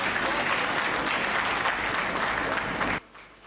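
Audience applause at a live Hindi comedy and poetry show, a dense, steady clapping from a crowd that fills the room, then cuts off abruptly near the end.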